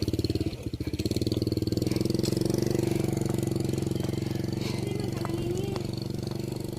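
A motorcycle engine labors uphill on a rural road outside Naga City, a loud, steady vibrating drone that holds continuously throughout.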